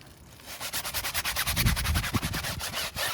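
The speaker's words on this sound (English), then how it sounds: "I'll go in with my tyre brush, which isn't actually a tyre brush, it's just like a floor scrubber" A floor scrubber brush scrubs a car tyre that sat unwashed for a year, giving close, loud rhythmic bristle strokes with no talk.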